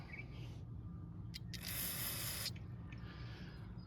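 Cleaner sprayed onto the needle of a Briggs & Stratton 775EX carburetor: a short tap of hiss, then about a second of steady close spray, then quiet dripping and handling.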